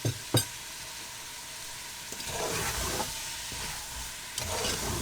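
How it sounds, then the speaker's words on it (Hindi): Spiced chickpeas roast in a pan with cumin, giving a steady close sizzle and hiss broken by occasional stirring scrapes and soft knocks. "इसे भूनते हैं अभी।"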